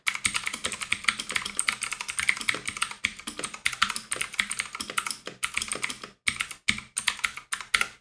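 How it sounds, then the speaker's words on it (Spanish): Fast, continuous typing on a T-Dagger Naxos budget mechanical keyboard with blue switches, loud clicky keystrokes rattling close up in uneven bursts with a few short pauses near the end, no voices. "Sí, son ruidosos, como es de esperar en interruptores azules."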